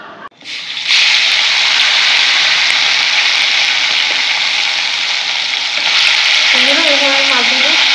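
A mixer grinder blends onion, mustard, poppy seed, green chilli and tomato into a paste; after a clunk the motor kicks in with a loud, steady whirring roar that runs continuously, with a brief pitch shift near the end.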